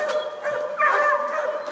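A large pack of coon dogs at an outdoor recreation area barks, yips and whines in overlapping, continuous calls.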